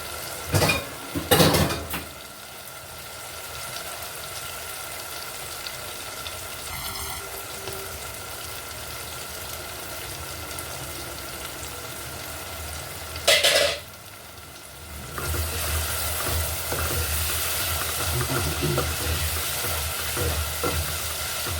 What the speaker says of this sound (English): That is frying just perfect